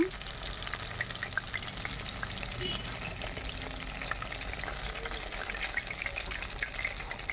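Chicken pakodi deep frying in hot oil, a dense steady bubbling sizzle that holds evenly throughout, close and moderately loud with no one talking.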